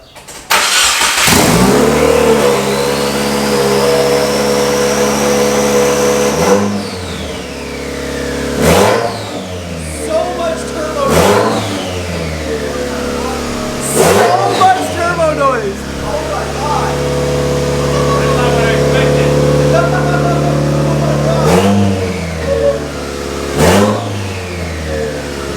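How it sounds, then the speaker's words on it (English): A Subaru WRX with a catless downpipe revs repeatedly, loud engine roars rising and falling with sharp turbo whooshes and hisses between blips, while people talk excitedly over it. "So much turbo noise, dude."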